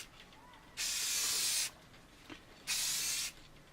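Gloss paint hisses from an airbrush spray nozzle onto a model kit of the starship Enterprise in two loud bursts of about a second each, with quiet gaps before, between and after.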